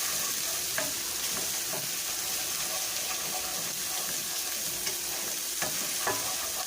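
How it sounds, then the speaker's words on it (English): Bacon sizzles and crackles steadily in a hot frying pan, with occasional sharper pops and light scraping, close by and with no voices. "And the bacon we're frying right here,"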